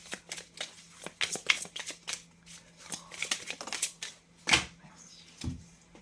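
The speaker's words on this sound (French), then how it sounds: "Je vais rajouter une petite carte quand même là." Tarot cards shuffled and drawn by hand: a rapid run of close, crisp riffling and flicking bursts, some sharp card snaps, and a few soft handling sounds between them.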